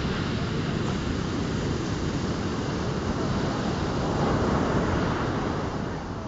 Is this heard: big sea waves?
yes